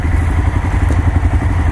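A small Honda MSX Grom 125 motorcycle engine runs steadily nearby with a low, even idle pulse and faint clatter, no voices present.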